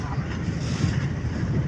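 A speedboat approaches across open water, its engine a steady low drone mixed with wind buffeting and the wash of water, heard at moderate distance over a short stretch.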